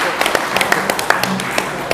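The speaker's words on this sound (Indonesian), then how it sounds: "Tepuk tangan dulu." A small group claps in sparse, uneven bursts at an official audience for karate athletes. The claps come as scattered sharp hits, fairly close and modest in volume, with some voices mixed in.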